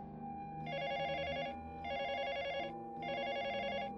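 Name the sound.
telephone ringing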